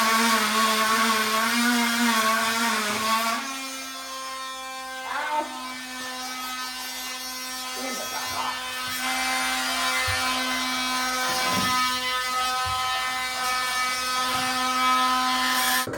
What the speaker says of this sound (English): Cutting them with my multi-tool,